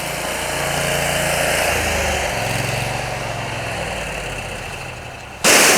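A pressure washer's gas engine runs steadily nearby while a surface cleaner is being hooked up, a loud continuous drone that holds even with no talk, then jumps briefly louder at the very end.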